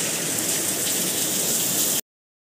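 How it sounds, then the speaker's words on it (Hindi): Heavy rain pours down in a steady, dense hiss of drops for about two seconds, then cuts off abruptly. "आज बारिश हो गई बहुत ज़्यादा तेज।"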